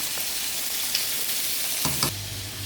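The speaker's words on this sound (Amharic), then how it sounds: "አሳው ደግሞ እንዲህ እየተጠበሰ ነው።" Steady sizzling of fish frying in a pan, with a couple of brief stirring scrapes near the end.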